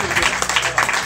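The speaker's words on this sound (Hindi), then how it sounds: "जोरदार तालियाँ इनके लिए" Brief burst of applause from an audience at an Alliance Clubs district cabinet meeting, loud clapping over about a second with a voice speaking on top.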